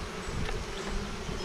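Honey bees buzz steadily in a dense, close swarm while being moved from a nuc hive into a full brood box, a continuous droning hum with no talking.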